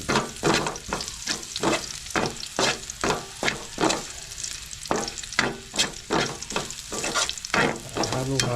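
Garlic with skins frying in a pan while being stirred, rhythmic scraping strokes about twice a second over a steady sizzle, close and clear, no talking.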